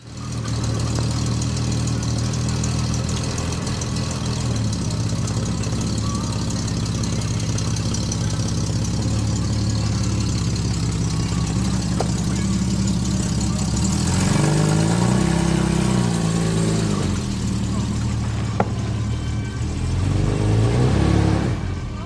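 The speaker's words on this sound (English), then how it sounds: "We'll get the old boy fired back up, backed out of the garage." A 1974 Volvo 164E engine running as the car backs out of a garage, a steady close rumble that swells with revving partway through and lasts throughout.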